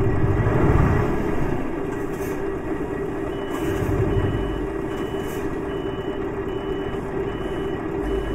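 A modded Scania truck in a driving game revs under throttle, its engine a steady, fairly loud low drone with a thin continuous beeping tone riding on top and no voices.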